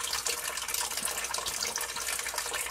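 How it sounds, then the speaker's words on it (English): Water streams steadily against the walls of a pit as they are rinsed after being rubbed with an iron ochre remover product, a continuous loud hissing splash with no pauses. "Mike is just showing us now that with actually rubbing the Horsesaver product along the walls of the pit and now washing it"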